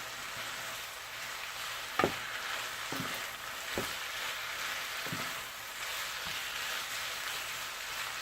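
Flour cooks in a frying pan for gravy with peppers and onions, a quiet steady sizzle broken by a few sharp clinks and scrapes of a utensil stirring against the pan.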